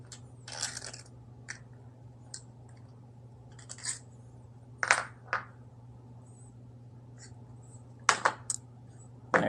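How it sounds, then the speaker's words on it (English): Flathead screwdriver backing out two air cover screws on a Craftsman weed wacker, a sparse series of faint, brief metallic clicks and scrapes spread unevenly over a quiet steady hum, with no talking. "just using a flathead screwdriver, we're going to pop these two screws out here"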